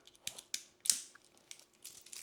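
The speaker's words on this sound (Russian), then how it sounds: "То есть я сейчас закрепляю таким же щелчком одну часть ремешка." Titanium strap being clicked onto a Samsung Galaxy Watch Ultra: several sharp, faint metallic clicks and small handling rattles at close range, no voices.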